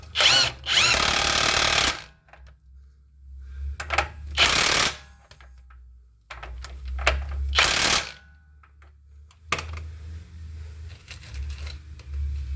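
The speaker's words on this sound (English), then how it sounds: "Now I'm going to tighten this lower first. 1 1/8 socket." Ratcheting and power-driven tightening of a ball joint nut on a 2017 Jeep Wrangler with a 1 1/8 socket, in several loud bursts of a couple of seconds each, separated by short pauses, close up.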